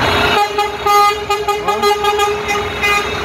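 A decorated Santa Claus truck passes along a city street, its horn tooting in short repeated honks over a steady engine rumble and general street noise, fairly close.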